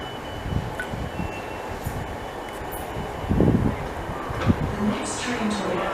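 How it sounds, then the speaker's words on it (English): At Norwood Junction station, a fast train rumbles through under a steady low roar, with a couple of heavier surges and faint high squeals, while quiet voices murmur in the background. "Fast train approaching."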